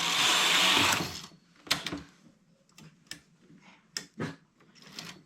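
Knitting machine working a neck blanket in two strands of yarn: a loud whirring carriage pass at the start, then a string of sharp clacks and short mechanical bursts at uneven intervals.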